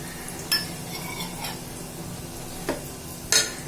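Onion-coconut masala paste going into a hot pan with biryani masala, a soft sizzle and stirring with a few sharp clinks of a spoon against the pan, close and quiet with no talk.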